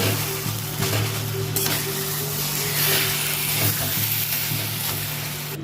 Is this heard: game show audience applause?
no